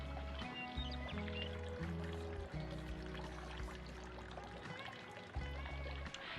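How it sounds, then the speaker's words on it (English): Two quarts of apple cider pouring into a pot, a steady gurgling stream with fluctuating tone that continues throughout. "Now we can add in our apple cider"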